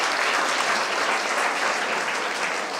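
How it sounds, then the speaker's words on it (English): An audience at a live hackathon event in Vizag applauds a volunteer, a full, even wash of many hands clapping steadily throughout. "Round of applause, guys."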